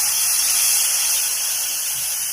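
Water hitting hot oil and spices in a pan of frying chickpea masala for poori chole, a loud, close, steady hissing sizzle with no talk.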